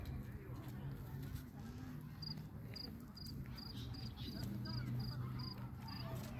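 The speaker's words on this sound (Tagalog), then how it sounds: "Mama, may kuliglig na." Crickets chirp in a park at dusk, a steady series of short, regular high pulses repeating over a low background hum, with people talking nearby.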